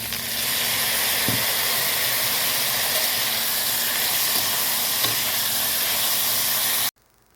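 Peas and vegetables fry for chowmein with a loud, steady hiss of sizzling oil, close and unbroken apart from a couple of faint knocks, cutting off abruptly near the end.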